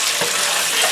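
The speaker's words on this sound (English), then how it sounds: "So, when you do stir fry, it is very important that you keep your wok very hot." Flat rice noodles stir-fry in a very hot wok, a short burst of loud, hissing, rushing sizzle heard close up.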